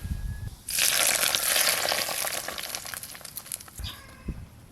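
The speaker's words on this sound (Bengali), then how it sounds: "এবার এই তেলটা আমি কচুরলতির ওপরে দিয়ে দেব।" Hot mustard oil tempered with nigella seeds hits taro stolons in a kadai with a sudden loud, sustained sizzle that gradually fades, ending with a few soft clinks and stirring noises.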